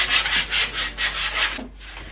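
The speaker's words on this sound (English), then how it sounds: "it's a bit dirty, so I'm just gonna sand it" A scrap wood bookcase piece being sanded by hand, close rhythmic rasping strokes, about five back-and-forth passes, ending as the sanding stops.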